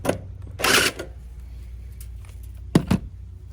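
A screw is driven into an aluminum gutter guard at an inside corner, heard as a short whirring burst from a power drill near the start and two quick clicks later, over steady outdoor background noise.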